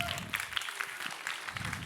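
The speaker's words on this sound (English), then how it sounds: "give a big warm round of applause to Yatsu" An audience claps for a speaker at an arte talks event, a moderately loud, uneven patter of hands with voices mixed in beneath it throughout.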